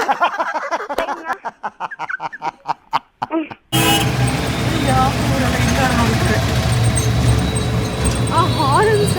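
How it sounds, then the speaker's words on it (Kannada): Vehicle horns honk in Bengaluru street traffic. Several short beeps come in quick succession under a voice, then a steady roar of engines and traffic follows, with more scattered honks from nearby and farther off. "ಯಾಕೆ ಎಲ್ಲ ಹಂಗೆ ಹಾರನ್ ಹೊಡಿತಾ ಇದ್ದಾರೆ?"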